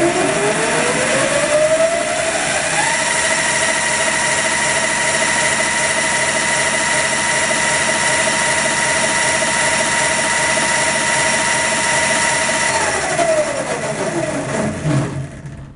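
A 60V Excalibur electric racing go-kart prototype accelerating in low gear, its motor whine rising steadily in pitch, holding a loud steady high tone for about ten seconds, then winding back down; close, with no talking.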